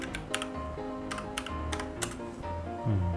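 Fingers type a prompt on a computer keyboard in Roblox Studio for an AI texture generator: a quick run of crisp key clicks in uneven bursts, close and clear over steady background music.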